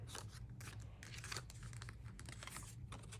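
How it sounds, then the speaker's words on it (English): Scissors cut through black glitter paper in a steady run of close, crisp snips and rustling crunches that fill the whole stretch, with no talking. "I just cut some black glitter paper"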